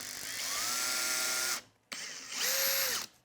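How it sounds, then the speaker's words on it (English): A power drill bores holes into a board for bumpers, two loud whirring bursts with rising then falling pitch, separated by a brief pause, close and clear with no talking. "let's go ahead and drill these holes"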